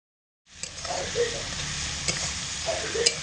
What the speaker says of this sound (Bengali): তো মশলা দিয়ে আলুর মধ্যে খুব ভালো করে জল দিয়ে কষিয়ে নিয়েছি।